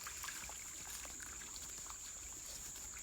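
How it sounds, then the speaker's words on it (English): Runoff from a small minor creek trickles and drops into a larger creek, a steady, continuous gentle splashing and babbling of water, close and fairly faint, with no talking. "that's where a lot of the runoff from a little minor creek comes down and drops in right here"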